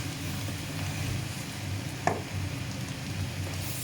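Meat filling for meat nems stirred as it sizzles in a pan, a steady broadband frying hiss throughout with a single brief scrape or clink near the middle, close and without talk.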